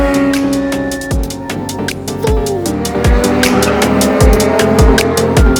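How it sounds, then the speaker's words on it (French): Race cars roar past on a circuit section with a steep elevation change, a continuous loud engine drone with repeated rising and falling passes and sharp clicking bursts, close and dominant with no talk. "Meilleur spot pour regarder les voitures passer là."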